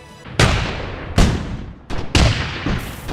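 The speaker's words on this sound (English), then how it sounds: "I layered a cannon firing sound with a more explosive mortar sound to make it feel more powerful" Three heavy booming blasts in quick succession, a cannon firing layered with a mortar explosion, each a sharp explosive crack followed by a rumbling decay.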